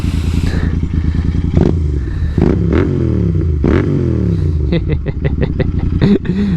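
A Royal Enfield Interceptor 650 fitted with Lextec exhausts revs close by on a country road, the engine note climbing and dropping in repeated blips, with sharp crackles and pops breaking through near the end.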